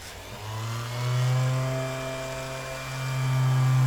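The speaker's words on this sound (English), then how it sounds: "I've got a 5-inch random orbital sander with a foam disc on it." A 5-inch random orbital sander with a foam disc runs on gel coat, its motor giving a steady, close tonal whine that swells and eases as pressure changes, with no talking.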